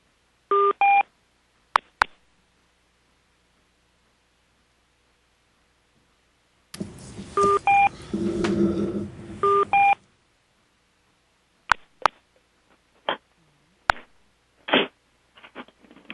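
Telephone keypad tones as callers dial into a conference call: short bursts of dual-tone beeps, a few at a time, separated by silence and clicks, with a stretch of muffled line noise in the middle.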